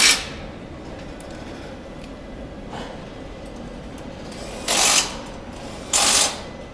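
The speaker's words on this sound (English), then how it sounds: "So every bolts and nuts is always done to the correct torque setting." Torque tool tightening bolts on the Lexus LC 500 assembly line in a Japanese factory, two short loud bursts near the end over a low factory hum, with a fainter click earlier.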